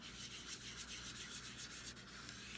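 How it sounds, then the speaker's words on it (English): A finger rubs and blends chalk pastel colors on paper, a soft, steady, continuous scratchy rubbing that stays faint and close throughout. "I'm gonna take my finger and I am going to rub those colors"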